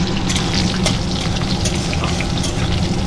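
Soaked cashews fry in hot oil for pulao, giving a loud, continuous sizzle with a crackly, bubbling texture and occasional sharper pops, all without any talking.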